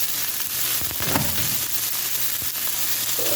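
A strip steak sears in rendered fat in a pan, a loud, close, continuous sizzle with sharp crackles and spits throughout, no talking.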